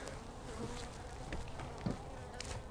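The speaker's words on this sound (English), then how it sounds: "I already got a few bees coming at me here." Honeybees buzzing close by around an opened hive during a hive split, with smoke in use, a steady droning hum with individual insects passing near, faint and continuous.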